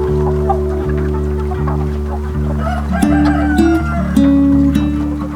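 Loud, steady mechanical hum with free-range chickens clucking and a rooster crowing layered on top.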